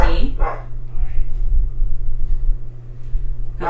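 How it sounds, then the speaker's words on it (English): A dog barks a couple of times near the start, loud and close, over a steady low electrical hum in a room during a math lecture on tangent and normal vectors. "sorry about my dog"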